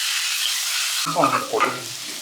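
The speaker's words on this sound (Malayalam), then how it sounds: "പച്ചമുളക് ഇട്ട് കൊടുക്കാം നല്ലപോലെ നമുക്ക് വഴക്കിയെടുക്കണം കേട്ടോ" Green chillies and onions sautéing in a pan for a koonthal (squid) roast: a steady hiss of frying, joined midway by stirring and scraping of a utensil.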